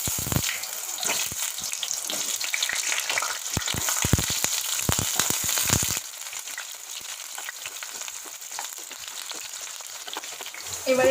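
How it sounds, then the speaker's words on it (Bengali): Pointed gourds sizzle and fry in hot oil in a home kitchen, a steady loud crackle with stirring knocks and scrapes early on, settling into an even hiss. "এবার এই তেলের মধ্যে আমি কাঁকরোলগুলো ভেজে নেব।"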